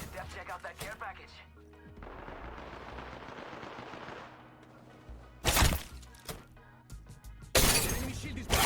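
Gunfire in the video game Apex Legends: rapid automatic bursts and sharp shots, loud and close, with a shattering crack as a shield breaks, heard among game sounds and voice chatter.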